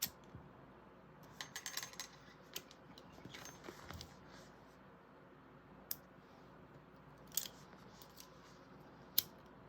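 Scissors snip thread on a sewn bag in a quiet room: a handful of sharp, brief clicks and snips spaced irregularly over near-silence.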